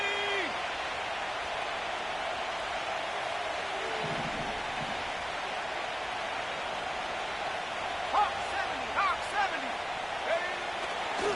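Stadium crowd noise from a football video game during a tense third-and-goal moment, a steady loud roar throughout with a few sharper accents near the end, while a commentator talks over it.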